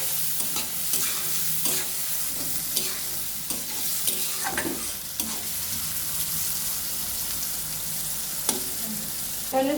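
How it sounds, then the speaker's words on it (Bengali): Onions fry in a pan with a constant, close sizzling hiss and frequent stirring scrapes from a spatula, with no voices. "এখন পেঁয়াজটা ভেজে নিচ্ছে।"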